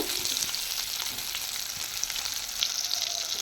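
Tomatoes frying in a pan for a Bengali pabda fish tel jhal while being stirred, giving a steady, dense sizzle with faint scraping from the stirring and no voices.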